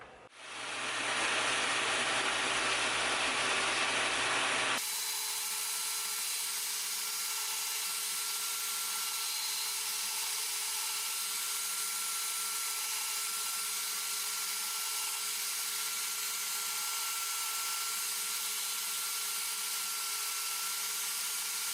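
A power tool cuts and trims excess material from knife handle scales, loud and harsh for about five seconds, then drops to a steady, quieter whirring hiss with a faint hum until the end. No voices.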